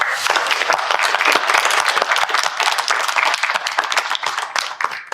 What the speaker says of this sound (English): So just another round of applause